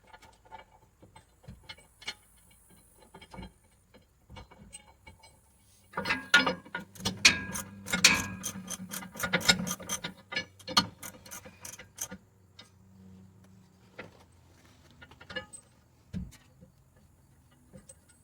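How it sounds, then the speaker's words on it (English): Ratchet tightening bolts from a gooseneck hitch center section into the cross members beneath a 2007 Chevy Silverado: a dense run of rapid clicking strokes in the middle, with sparse taps and clanks before and after, close and moderately loud. "see if I can get some bolts started from the center section to the cross members"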